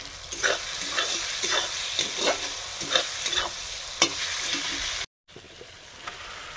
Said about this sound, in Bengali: আলুটার মশলার সঙ্গেই ভেজে নিচ্ছি